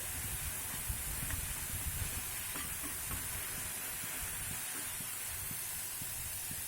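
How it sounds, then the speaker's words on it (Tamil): Eggplant, onion and tomato sautéing in a pan give a soft, steady sizzle, broken by irregular scraping taps of a spoon stirring throughout, fairly faint and close, with no voices. "நல்லா கரண்டை விட்டு நல்லா வதக்கி விட்டுக்கிட்டே இருங்க"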